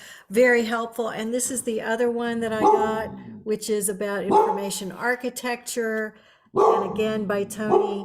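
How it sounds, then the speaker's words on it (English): A dog barks and yips in the background of a home interview, intermittent and partly masked by a person talking steadily over it. "sorry about the dog"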